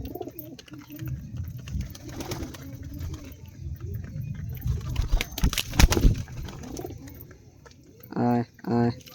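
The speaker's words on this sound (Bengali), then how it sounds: "হাতে খেতে ডাকলেই সব পায়রা হাতে উঠে আসবে" Pigeons coo softly and intermittently while being hand-fed wheat grain, with rustling and a few louder bursts, and a person's voice calls out twice near the end.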